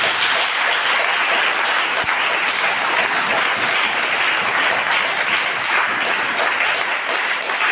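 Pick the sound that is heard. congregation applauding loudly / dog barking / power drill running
congregation applauding loudly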